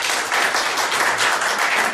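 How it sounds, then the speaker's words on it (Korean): A hall audience applauds loudly to welcome a former national assemblywoman onto the stage at a Korean broadcast event, a dense, even wash of clapping with no voices over it. "큰 박수로 맞이해주시기 바랍니다."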